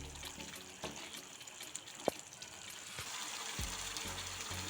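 Spices frying in oil for a matar malai paneer curry, a steady soft sizzle with occasional stirring scrapes and a sharp clink in the middle.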